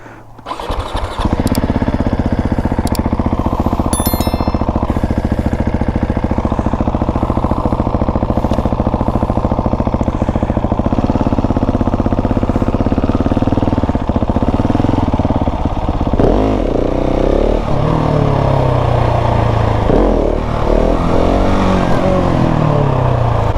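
A motorcycle engine runs steadily and loud throughout, with throttle blips and revs rising and falling as the rider practises wheelies; a voice speaks briefly over it.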